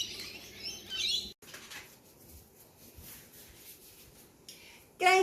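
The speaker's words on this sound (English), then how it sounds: "Let's go over here and say hi to these corellas. Hello, corellas. There's a lot of birds today." A flock of corellas calls in loud, harsh screeching bursts at the start and again at the end, with quieter chatter and rustling in between.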